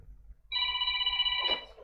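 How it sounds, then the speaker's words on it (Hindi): An incoming phone call rings with a single clear electronic telephone tone, held steady and fairly close, starting abruptly after near silence and fading near the end. "फोन है, उठा के बोल दो"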